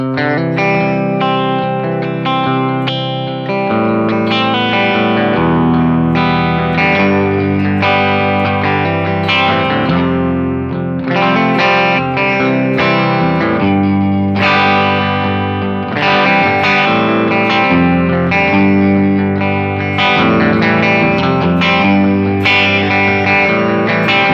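A Rickenbacker 330 electric guitar plays through Boss GX10 compression, giving a loud, dense strummed passage of sustained chords. Effects colour the tone with grit and shimmer, and the playing continues evenly for over twenty seconds without any talking.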